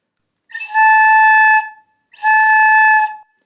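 Two separate sustained, airy flute tones, each held about a second, made by blowing air through a small opening of the lips, with a brief silence between them.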